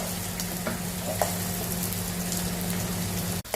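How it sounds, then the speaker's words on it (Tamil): Onions frying in hot oil for a Tamil potato fry, a steady continuous sizzle and crackle close by with a low hum beneath, no voices. "வெங்காயம் கொஞ்சம் பாதி வதங்கிட்டு"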